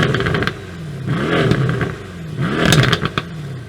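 Mercedes C63 AMG W205 with the M177 4-liter twin-turbo V8 blipping its throttle nearby, two loud rising and falling revs with crackling bursts between them, no talk.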